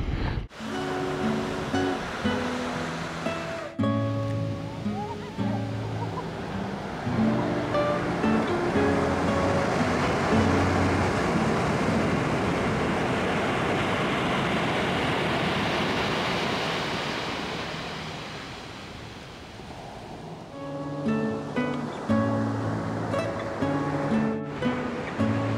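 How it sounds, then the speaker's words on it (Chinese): Surf rolls onto a sandy beach in a valley along California's Highway 1, a long wave roaring up in the middle and fading away, with steady tonal sounds sitting over the wash at the start and end. "我们终于走到海边了，这是一个在山谷里的沙滩。"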